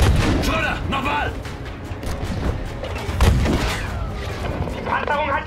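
In the Battlefield V campaign, a heavy shot strikes armour with a sharp, booming impact midway, surrounded by shouting voices and battle noise.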